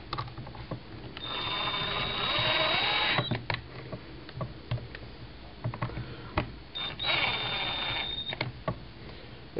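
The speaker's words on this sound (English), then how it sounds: "Now we'll go up behind it and go ahead and sink all these screws into place." Screws being driven and snugged up while a Mossberg firearm is assembled: two long whirring runs of a driver, each about two seconds, close and fairly loud, broken up by short clicks and handling knocks.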